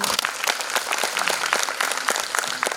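Audience applause at a school award function and stage competition, a dense patter of clapping hands filling the room steadily for a few seconds without any voices.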